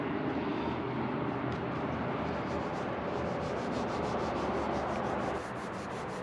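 Someone hand-rubs new paint on a restored steering wheel with glazing compound, making a steady, close, even rubbing hiss that runs continuously, with no talking.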